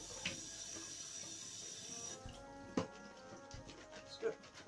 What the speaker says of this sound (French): vous pouvez y ajouter les haricots que vous allez rincer un peu avant